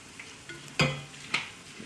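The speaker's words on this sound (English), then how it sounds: "it's starting to bubble nicely, so I'm gonna give it a good stir" Chili simmers in a pot with a soft, steady bubbling. A spoon stirs it, giving a couple of sharp clinks and scrapes against the pot, close and fairly quiet.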